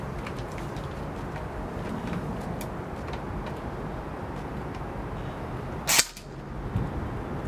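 A single sharp crack from an airsoft gun firing a 0.28 gram BB through its stock barrel, standing out once against steady outdoor background noise.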